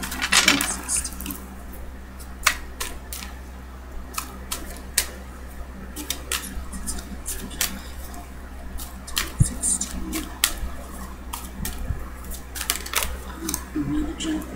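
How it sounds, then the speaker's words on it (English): Tarot cards are shuffled by hand in a series of sharp, irregular riffling clicks and snaps, close and fairly crisp over a quiet room background, with the occasional louder tap. "Every time I think I'm through shuffling, something jumps out, and so I just be sure to keep a good shuffle."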